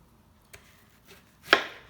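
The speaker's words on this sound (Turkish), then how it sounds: "Önce kuru soğanlarımızı doğruyorum." A few sharp knife chops through onions on a cutting board, two light taps followed by a louder, crisp chop near the end, with quiet pauses between.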